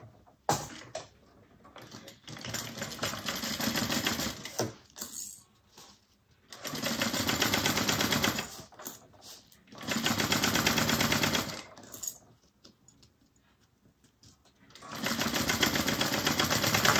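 Sewing machine stitching a satchel in several sustained runs of fast, rattling mechanical chatter, broken by short gaps with faint clicks and handling.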